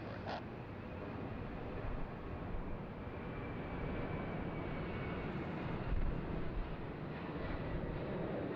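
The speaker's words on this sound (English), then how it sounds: "Dreamliner of the Qantas variety. Heading down to Johannesburg, just clear for takeoff there on runway 3 for left." A Qantas Boeing 787-9 Dreamliner bound for Johannesburg takes off from runway 34 left at Sydney Airport, its broad jet-engine roar heard from a distance, steady and fairly faint.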